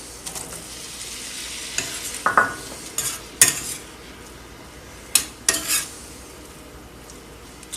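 Blueberries tumble into a foaming pan and are stirred, with a spoon scraping and tapping the pan over a steady frying sizzle; the knocks come in a few distinct bursts, close and fairly loud, with no talking.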